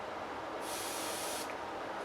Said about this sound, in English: I just spray both ends of the Q-tip